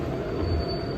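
A New York subway 7 train in Manhattan rumbles loudly and close by, with a steady metallic roar and a thin high squeal from the wheels on the rails.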